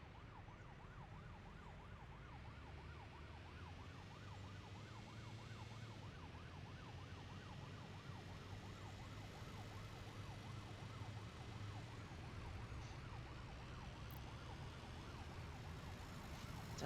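A faint ambulance siren wails in the Workers & Resources city-building game, its rising and falling tone cycling steadily and far off under a constant low rumble of game ambience.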